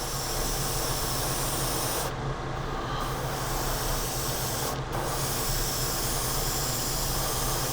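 Continuous airy hiss of an airbrush spraying pre-thinned enamel clear coat, steady and close, with two brief drops where the spray cuts out for a moment.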